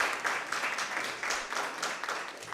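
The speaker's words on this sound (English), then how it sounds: "a round of applause" An audience at a school debate semifinal between Meru School and Makueni Girls High School claps briefly, a short burst of moderately loud applause with uneven individual claps.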